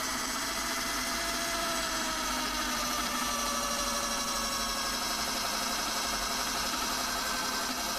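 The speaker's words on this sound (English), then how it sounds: "drop of oil and drill." A drill bores into high-speed steel with a drop of oil, giving a continuous close whine with a faint grinding edge that holds steady throughout, and no voices.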